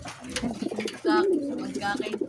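Nearby pigeons give low rolling coos, one swelling louder midway, with faint voices murmuring in the background.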